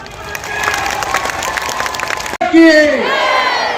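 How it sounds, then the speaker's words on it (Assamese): A large crowd at a BJP election rally in a Dhekiajuli tea garden claps and cheers loudly, the steady applause giving way to a sudden shout and raised voices near the end. "হাত চাপৰি"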